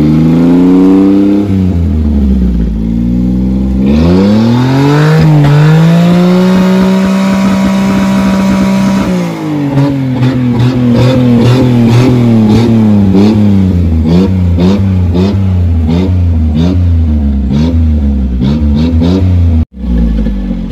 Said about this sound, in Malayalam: ഇതിൻ്റെ ആ വാൾവ് ഓപ്പൺ ചെയ്ത് ശേഷം കേൾക്കുന്ന മറ്റൊരു രീതിയിലുള്ള എക്സോസ് സൗണ്ട്, അതായത് വണ്ടിയുടെ ലൗഡ് ആയിട്ടുള്ള എക്സോസ് നോട്ട്